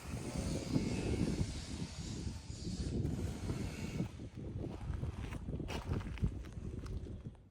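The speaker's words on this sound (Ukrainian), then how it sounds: "Ось отакий пилесосик від Дніпро М." Dnipro-M VC-10BC cordless car vacuum cleaner running with a continuous airy whoosh and whine, fairly quiet and close, shifting slightly in strength as it moves.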